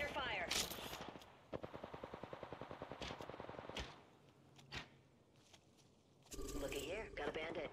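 Gunfire in the Apex Legends video game: a rapid, even burst of automatic shots runs for a couple of seconds, with single shots before and after and game sound effects around it.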